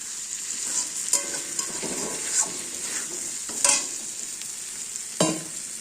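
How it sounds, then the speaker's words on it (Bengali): Spices being stirred in a sizzling pan for aloo paneer, with a steady frying hiss and a few sharp scrapes and clanks of the spoon at irregular intervals, fairly close but soft, with no voices. "একটু নাড়াচাড়া করেই পনিরগুলো দিয়ে জল দিয়ে দেবো"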